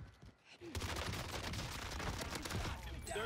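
An MP5 submachine gun in Call of Duty rattles off a sustained, dense burst of rapid shots after a brief quiet start. The firing is fairly loud and continuous to the end.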